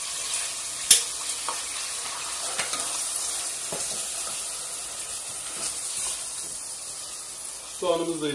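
Onions sizzle steadily in a hot pot, with occasional scraping clicks of a utensil stirring through them.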